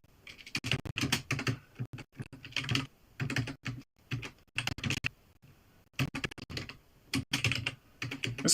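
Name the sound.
typing on a computer keyboard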